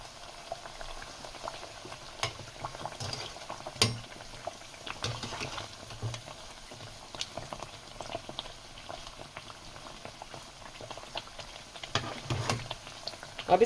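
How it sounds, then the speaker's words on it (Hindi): Sweet Sindhi tikki made from a sweet dough fry slowly in hot oil over a low flame, giving a steady soft bubbling sizzle with scattered faint pops and ticks throughout, no voices. "ये स्लो स्लो पे फ्राई हो रहे हैं।"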